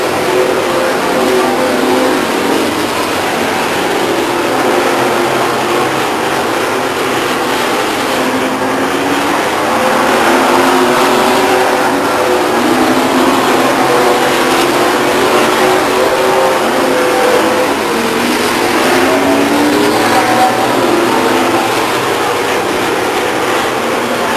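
Stock cars racing at Stockton 99 Speedway in 1999, a loud, continuous roar of several engines with rising and falling pitch as the cars pass around the oval, heard close with no talking.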